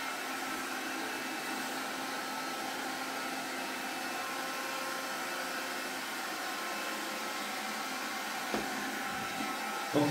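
Kärcher WV window vacuum running, a steady airy whir of blowing and suction that holds at an even level throughout, close by and with no talking.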